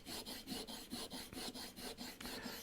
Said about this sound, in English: I'll work the other end of the stone.